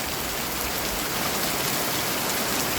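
Dense, heavy storm rain pouring steadily, a loud continuous hiss of drops hitting surfaces with no pauses.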